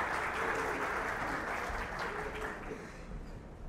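Sustained audience applause at a health congress on intermittent fasting as a speaker arrives on stage, a dense steady clatter of many hands filling the room and tapering slightly toward the end.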